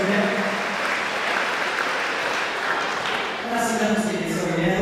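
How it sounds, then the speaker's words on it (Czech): Audience at a summer musical theatre school performance in Holíč claps steadily in a dense, sustained wash of applause, with voices rising over it toward the end. "potlesk ještě jednou vám"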